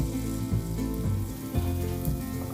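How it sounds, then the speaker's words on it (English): Garlic paste sizzling in a little hot oil in a heated saucepan, a steady dense crackle close up, continuous and fairly loud, no talk. "Add around a teaspoon of garlic paste."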